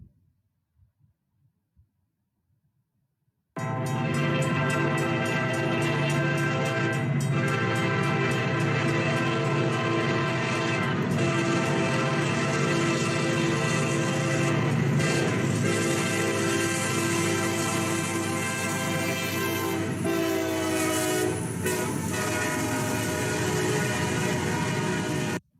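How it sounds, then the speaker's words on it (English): A Nathan K5LA air horn on a CSX SD40-3 locomotive sounds one long, loud, sustained multi-chime blast after a few seconds of near silence, holding steady for over twenty seconds. "SD40-3 would come equipped with either a Nathan K5LA or Leslie RS3L air horn."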